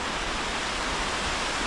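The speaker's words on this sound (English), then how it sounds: "I just moved over to this little waterfall over here" A small waterfall at a Massachusetts fishing spot makes a steady, loud rush of falling water with no breaks or voices.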